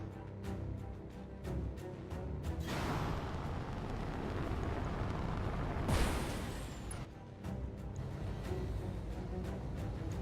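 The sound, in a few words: mechs shooting at the enemy in video game Battletech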